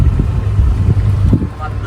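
A houseboat cruises along the Alappuzha backwaters near the Nehru Trophy boat race stadium, its low engine rumble and wind buffeting the microphone steady throughout, with faint voices underneath.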